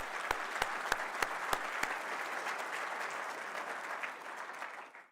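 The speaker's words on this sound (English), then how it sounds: "I wanna give you all a round of applause for that" An audience at a College Success Foundation scholar event gives a steady round of applause, a few sharp claps standing out early before the clapping fades out at the end.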